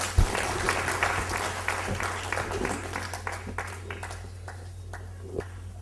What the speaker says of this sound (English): Let's give Dr. Amarnath a huge round of applause